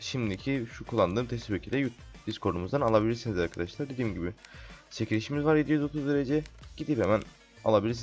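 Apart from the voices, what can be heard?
None of the usual background noises is heard.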